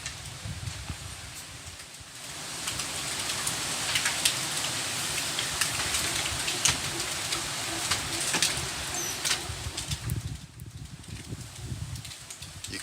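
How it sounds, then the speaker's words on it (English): Steady rain pattering on leaves at a forest hostel, a continuous close hiss of drops with occasional sharper ticks and faint bird calls in the background. "So you can hear the pitter-patter of raindrops."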